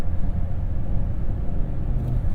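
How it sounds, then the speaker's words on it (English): Steady low rumble and whir of tires rolling on smooth asphalt inside a moving 2024 Honda Ridgeline Trailsport at about 55 mph, engine near 1700 RPM, constant and even throughout. "you do hear the whir of those tires a little bit on the smoother asphalt"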